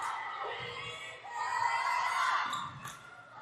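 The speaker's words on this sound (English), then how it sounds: "Sidelines cheering her on, telling her to keep it up." Spectators on the sideline of a high school volleyball match cheer and shout encouragement, a steady mid-distance wash of voices that swells in the middle and fades toward the end.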